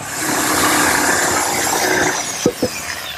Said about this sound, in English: Plunge the saw down, and then I'll finish it off with my jigsaw.